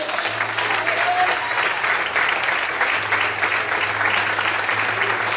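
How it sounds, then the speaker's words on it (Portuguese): Loud, sustained applause from a church congregation during an evening service, thick continuous clapping with a low steady tone running beneath it. "levanta a mão, glorifica e aplauda o Senhor bem forte nessa noite"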